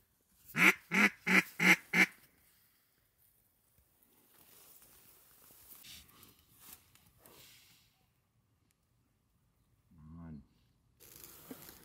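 A rapid run of five loud duck quacks in close succession on big water during a duck hunt, followed by quieter rustling, a soft low call, and faint background noise.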